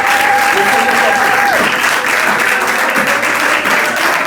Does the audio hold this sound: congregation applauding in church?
yes